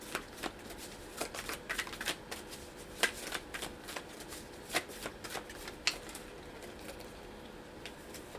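Tarot cards being shuffled by hand, a run of crisp papery riffles and flicks in uneven bursts, close up and fairly quiet with no voice.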